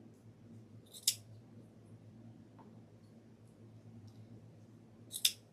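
Scissors trimming a craft piece, two sharp crisp snips several seconds apart, close and clear over a low steady background hum.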